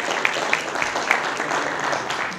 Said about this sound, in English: Let's have a round of applause for Stonehill.